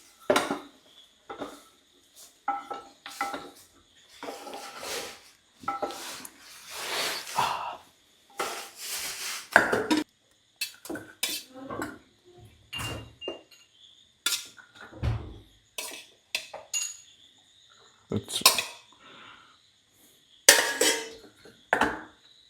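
A spoon clinks and scrapes against a bowl while a creamy mixture is stirred, in irregular bursts of chinking and scraping with short quiet gaps between.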